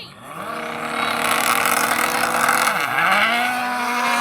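A Bugatti Chiron SS and a Lamborghini Huracan launch together in a drag race: loud roaring engines climb steadily in pitch, with a brief dip around a gear change before they keep pulling hard. The sound is close and continuous, with no talking.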